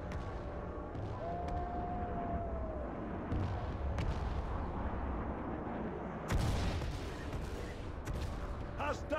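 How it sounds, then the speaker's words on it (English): Heavy artillery pounds in the distance during a PlanetSide 2 battle, with sustained rumbling fire and a sharper blast near the six-second mark over a constant din of combat. "We got heavy artillery in the area."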